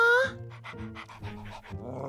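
A puppy panting in quick, rhythmic breaths close by, following a brief voice at the start.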